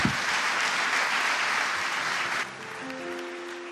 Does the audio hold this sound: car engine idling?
no